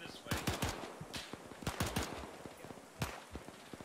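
Sharp gunshots in a multiplayer military shooter operation, scattered rifle cracks and short machine-gun bursts from Bren and MG positions, some close and loud, others farther off, in irregular clusters.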